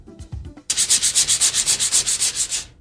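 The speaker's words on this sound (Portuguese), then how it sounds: "olhando uma lixa bem de pertinho, a gente percebe que ela é feita toda de pequenos grãozinhos abrasivos" Sandpaper rubbed back and forth, a few light scrapes and then about fourteen rapid, evenly spaced rasping strokes, close and fairly loud, with no voice.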